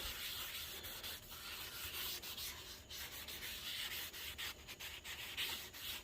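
A rag rubs rust protectant over a Delta 8-inch drill press, model 11-950, working into crevices with a steady, close, continuous scrubbing swish and no talking.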